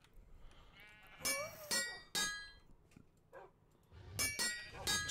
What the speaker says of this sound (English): Sheeps. Right.